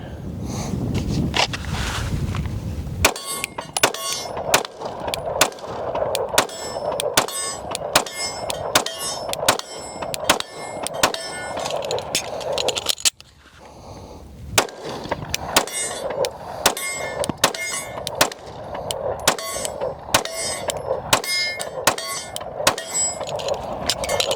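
A Rost Martin RM1C pistol firing 115-grain full metal jacket rounds at a 20-yard range. Loud, sharp gunshots come in rapid regular strings, with a short pause between the opening shots and a long second volley.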